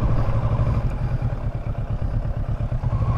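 A Kawasaki Versys 650 ABS Tourer 2018 motorcycle engine idling, a steady low throbbing pulse with some mechanical clatter, close and continuous without voices.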